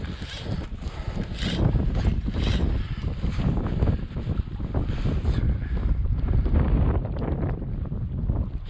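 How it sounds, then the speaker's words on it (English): Cold east wind blows steadily across an open microphone by the water, a loud continuous buffeting roar with gusts that rise and fall throughout. "Still this cold east wind"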